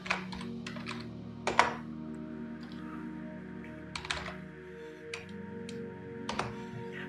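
Quiet keystrokes on a computer keyboard while entering data in inventory software, scattered taps and short clusters of clicks spread over several seconds against a low background hum.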